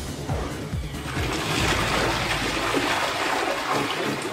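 Water rushes steadily from a dual flush toilet cistern in a wall-mounted frame system, a loud continuous flush with gurgling swirl lasting several seconds and no voices.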